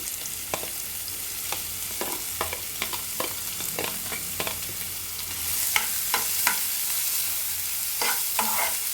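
Two small, finely chopped onions fry in a pan with a soft, continuous sizzle. Repeated spatula taps and scrapes break through it at an uneven pace.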